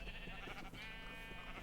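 Minecraft sheep bleat in a pen on a multiplayer survival server, a short run of nasal, wavering bleats close by, with no talking over them.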